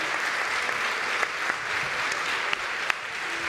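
Sustained audience applause at a Spanish lecture event, a dense steady patter of many hands clapping throughout with a few sharper individual claps standing out.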